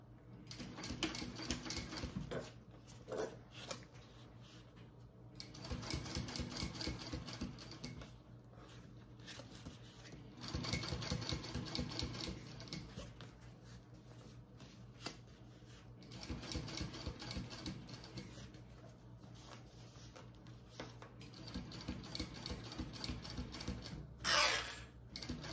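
A sewing machine top stitches along the zipper on the exterior of a fabric waist pack with a longer stitch length, running in several rapid rattling bursts separated by pauses.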